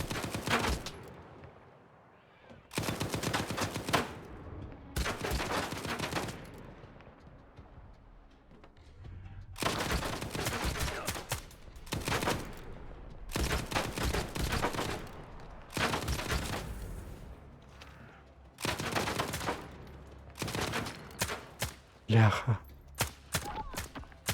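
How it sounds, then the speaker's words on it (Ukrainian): Repeated bursts of automatic gunfire in the video game Stalker 2, loud rapid volleys coming in long clusters separated by brief lulls, with scattered single shots and occasional movement between firefights. "Ну, довго вас тут стрілять ще?"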